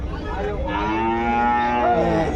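A Holstein Friesian cross calf gives one long, drawn-out moo, close and loud, rising slightly toward the end, alone without talk, at a livestock market in Punganur.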